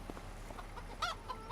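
Chickens on a farm in a video game cluck in a few short, close calls over a steady low background hum, with one sharper squawk near the end.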